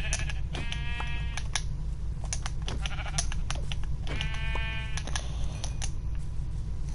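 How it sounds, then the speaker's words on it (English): Sheep in the Minecraft video game bleat several times in short wavering calls, spread across the stretch over a constant low background hum, with scattered clicks and no talking. "Oh, three sheep."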